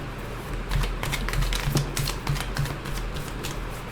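Tarot cards shuffled and drawn from a deck during a reading: a run of quick crisp flicks and snaps close by, irregular in rhythm, with no talking.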